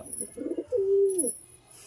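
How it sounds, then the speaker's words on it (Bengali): A red-tailed pigeon gives a soft, low coo, a short burst followed by a longer drawn-out note, close by and alone. "দুটোই লালদুম পায়রা।"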